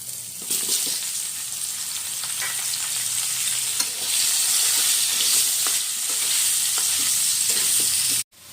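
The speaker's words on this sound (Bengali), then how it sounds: "এখন যে মাছের মাথাগুলো ভাজলাম ওই তেলেই কিন্তু আলুগুলো ভেজে নেব আমি" Potatoes frying in oil left over from frying fish heads, giving a steady, close, hissing sizzle throughout, with occasional light stirring clicks and no voices.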